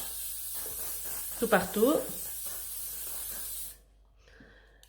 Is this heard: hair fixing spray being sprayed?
yes